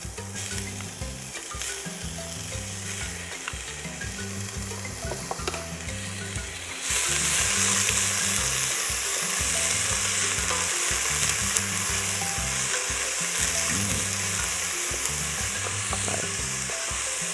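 Garlic, pimento and onions frying in hot oil for Trinidadian curry goat, a steady crackling sizzle that swells louder and brighter about midway as more ingredients hit the pan, close up with occasional utensil scrapes and no voices.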